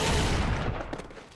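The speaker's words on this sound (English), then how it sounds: "Oh, finally Kenny has a gat." Gunfire in the Serious Sam 4 video game: a dense, loud volley of overlapping shots and booms rolls together at first, then thins into a few fainter cracks as it fades.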